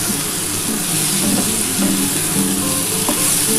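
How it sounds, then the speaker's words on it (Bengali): Taro, eggplant and potato frying together in a pan, a dense, loud, steady sizzle with stirring scrapes running through it, no voices. "কচু, বেগুন, আলু একসাথে একটুখানি ভেজে"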